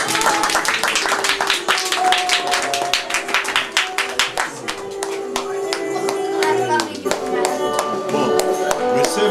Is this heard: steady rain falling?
no